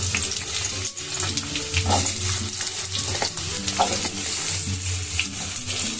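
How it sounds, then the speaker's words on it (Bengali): Cut pointed gourd pieces, tipped into hot oil for a home-style Bengali curry, hiss and sizzle loudly and steadily, with stirring scrapes and crackle close by throughout, no voices. "তেল গরম হয়ে গেছে, এখন দিয়ে দেব পটলগুলো।"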